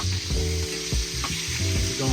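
A thick steak, about 2.5, sizzles in butter in a pan over low heat. The close, crackling fry goes on without a break, with a few soft bumps and shifts of the pan and no talk.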